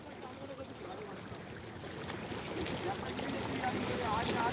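A boat moves on the Hooghly River with a steady wash of water and wind buffeting, rising slightly in loudness, while people talk faintly under it.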